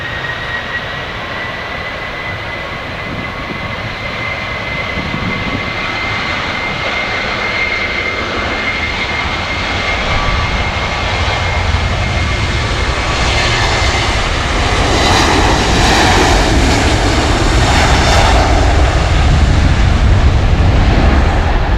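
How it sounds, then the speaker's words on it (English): A Jet2 Boeing 737-800 airliner on evening arrival passes overhead with a loud, steady roar that swells over about twenty seconds, a heavy low rumble beneath rising whine and rushing air. "So Jet2 here, 737-800 coming to Rose."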